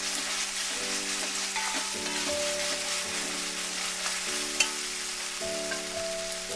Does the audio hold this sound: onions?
yes